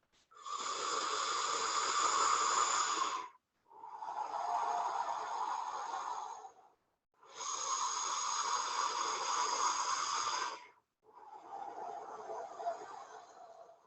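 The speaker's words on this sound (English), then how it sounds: "Every exhale, breathing more air out to create space for new oxygen to come into the lungs." Four long, slow, deep breaths during a Kundalini yoga session alternate between inhales and exhales, each lasting about three seconds with a short pause between, airy and close.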